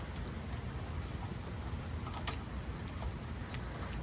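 Steady rain falls outdoors as a continuous soft hiss with scattered drop patter, moderately faint and even throughout, with no talking.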